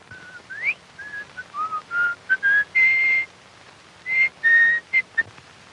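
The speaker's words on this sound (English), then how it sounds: "You don't mind if a man whistles to himself, do you?" A man whistles a tune to himself in short, clear melodic phrases with small pauses between them, close and alone.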